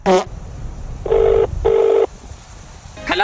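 Two short electronic touch-tone beeps from a phone keypad, loud and close, set between brief bursts of other tones.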